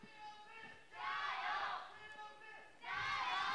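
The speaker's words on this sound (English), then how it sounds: "We'll have to see if TOP change gears once they get to that point as the fans cheer them on." Crowd of fans cheering at a League of Legends esports match between Topsports Gaming and Vici Gaming, rising in two loud swells with a quieter roar between them.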